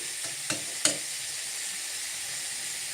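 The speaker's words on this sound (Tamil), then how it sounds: "இந்த ஸ்டவ்வில் சாப்பாடு வேகுது" Rice cooking in a pot on a home kitchen stove gives a steady soft hiss and simmer, with two or three faint clicks or taps early on and no voices.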